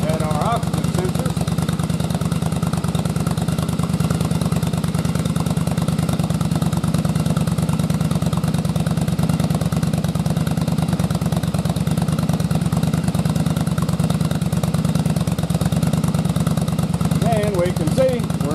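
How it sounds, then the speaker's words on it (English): An engine running on dual carburetors idles steadily for the whole stretch, a close, even mid-pitched drone with a fast regular pulse; someone talks over it at points. "We're running our dual carbs."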